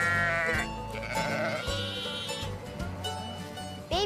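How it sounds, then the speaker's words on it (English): Baby goats bleat in a fair livestock pen, a string of wavering, nasal cries close by, some overlapping, with brief quieter gaps between them. "Baby goats. How do they get their heads through the fence like that?"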